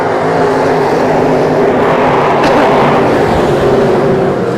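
A pack of IMCA race cars roars around Arizona Speedway during a feature race, a dense, loud and continuous engine drone close by with a brief swell as cars pass, filling all of the few seconds.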